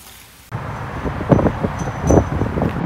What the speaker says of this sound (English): It's so windy out right now